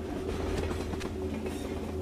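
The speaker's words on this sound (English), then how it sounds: "Oh, there's a train." A train in the small indie video game Please Don't Litter rolls past with a steady, dense mechanical rumble and faint rhythmic clatter, holding at an even level for the whole moment.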